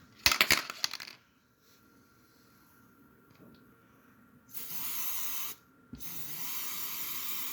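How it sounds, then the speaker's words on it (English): An aerosol can of spray adhesive is shaken with rattling clicks, then hisses in two steady bursts as it coats the tops of an HO scale model tree's branches, close and clear. "grab some spray adhesive, shake it up, spray the tree."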